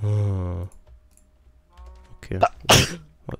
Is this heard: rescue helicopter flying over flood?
no